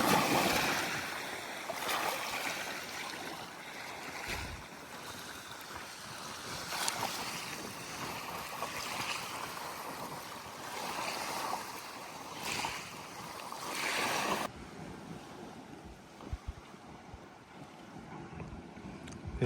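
Waves wash against the shore of a sea in strong wind, a dense rushing roar with gusty buffeting across the microphone that eases somewhat toward the end.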